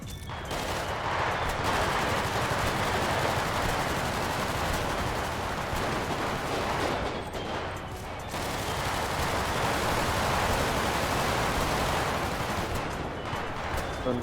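Sustained video game gunfire, a dense, loud barrage of rapid shots that runs almost nonstop with a brief dip midway before resuming at full intensity.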